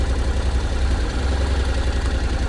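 A Honda motorcycle, from a ride comparing the Rebel 500, CTX and NC700X, runs its engine at a steady, throbbing low idle, close and continuous, with no talk.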